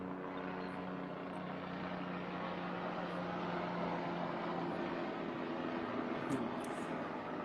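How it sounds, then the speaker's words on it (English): A helicopter flies overhead, its steady, loud rotor and engine drone filling the scene continuously without a break. "It's so loud when the helicopter's up there."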